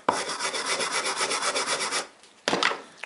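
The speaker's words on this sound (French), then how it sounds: "On va mettre un petit coup de brosse dessus." A brush scrubs across an arc-weld bead on steel in fast, even back-and-forth strokes for about two seconds, stops briefly, then a shorter final burst follows; close and fairly loud, with no voices.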